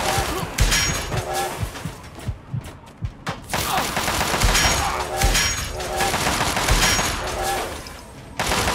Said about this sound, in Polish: Patrzcie jak uciekał przed tymi strzałami.